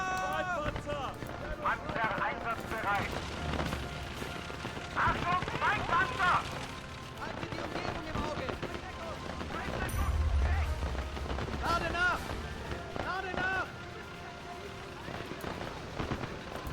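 Artillery fire in a WWII strategy game set during the fall of France, repeated booming blasts and crackling explosions spread across the stretch, with someone talking over much of it.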